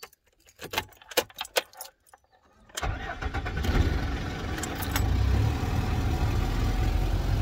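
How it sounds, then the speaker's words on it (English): Keys jangle in a few sharp bursts, then a 1995 Mercedes truck that has stood for ten weeks cranks and fires up, settling into a loud, rough diesel idle that stays steady to the end. "1995 truck, let's see if it starts."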